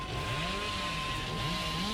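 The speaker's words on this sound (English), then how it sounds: "I cannot control that chainsaw for the life of me" Billy's chainsaw in Dead by Daylight revs with a buzzing engine whine that rises and falls in pitch, continuous and fairly quiet over a steady background tone, with no voices.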